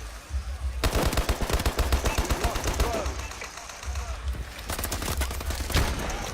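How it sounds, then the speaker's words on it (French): Rapid bursts of secondary-weapon gunfire in Call of Duty: Advanced Warfare, loud and close, a long rattling volley followed by a pause and further shots, with someone speaking at times. "J'ai fait le kill avec l'arme secondaire."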